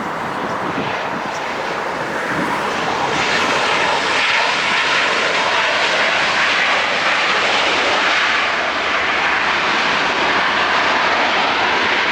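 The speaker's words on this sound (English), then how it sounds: "United coming in from San Francisco, flight 2610 is landing now." A United airliner arriving from San Francisco lands at LAX, its engines producing a loud, continuous broadband roar for the whole stretch, close by and steady, with some wind buffeting the microphone.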